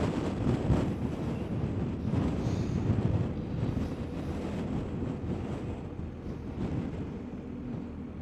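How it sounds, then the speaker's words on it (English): Wind buffeting a rider on a BMW R1250GS motorcycle crossing the Applecross Pass on Scotland's west coast, a constant heavy low rumble of gusting air against the microphone, loud and unbroken. "feel that wind"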